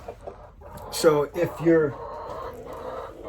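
A few close chicken clucks and squawks rise briefly inside a coop among quiet background noise, with a person speaking faintly near the start.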